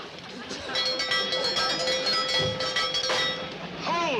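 A train with an uncoupled coach rumbles and clatters along the rails with a steady metallic screech, while voices speak over the noise.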